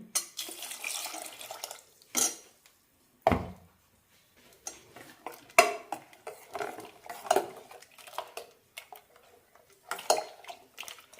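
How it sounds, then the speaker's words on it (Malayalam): Water poured into a pot of jackfruit seed curry with ground mustard paste, then stirred, bringing close metal clinks and scrapes of a spoon against the pot in short, uneven bursts with brief quiet gaps. "കുറച്ച് വെള്ളം കൂടി ഒഴിക്കാം"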